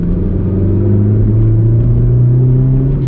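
A manual Suzuki Swift Sport ZC32S engine revving past 3000 RPM, steady intake drone climbing slightly in pitch, loud and close inside the cabin with road rumble beneath, no voices.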